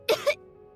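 A character in a Genshin Impact video game cutscene gives two quick, close coughs in a row, then falls quiet.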